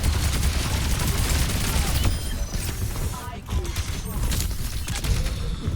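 Rapid gunfire from the hero Orisa in the Overwatch video game, a sustained dense burst of shots with game effects and impacts, loud and continuous throughout with no speech.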